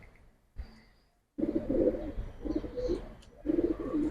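Giribaz pigeons coo nearby in bursts of soft, throaty calls, first a brief sound then a quiet gap, then repeated cooing phrases over low background noise.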